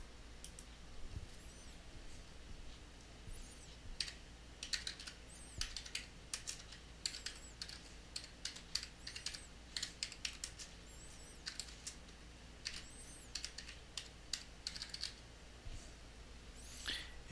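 Faint typing on a computer keyboard, a steady patter of quiet key clicks with occasional louder taps over a low background hum, no talk.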